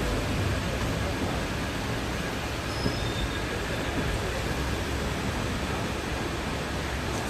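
Steady broadband rumble of the Senthur Express passenger train at a station, with a continuous rolling train wagon noise and a faint brief wheel squeal, no talk.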